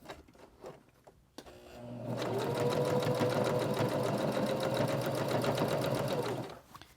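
A sewing machine stitches the corner of a reversible placemat, starting after a few light clicks with a steady fast mechanical whir that runs evenly for several seconds, then stops abruptly.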